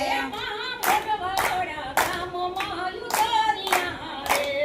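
An audience claps in unison along to a devotional folk song, sharp group claps landing in a steady rhythm about once a second over the sung melody.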